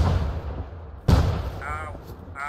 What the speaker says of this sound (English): He's firing grenades.